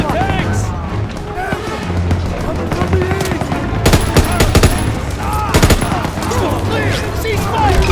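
An MG-42 machine gun fires in a WWII video game, sounding as loud bursts of rapid gunfire and scattered shots. Battle noise and shouting voices run underneath throughout.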